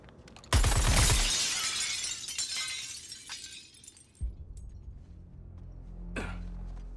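Glass shatters loudly in the Suicide Squad: Kill the Justice League video game, a sudden crash followed by tinkling shards and a fading rumble, with a second thud and hiss later.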